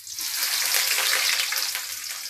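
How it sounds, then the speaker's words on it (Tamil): Chopped onion and curry leaves hit hot oil in a pan, a loud close hissing sizzle that swells quickly and stays steady and bubbling, with no voices. "எண்ணெய் கொஞ்சம் ஊற்றிக்கலாம். உடனே வெங்காயம் கருவேப்பிலை சேர்த்துக்கலாம்."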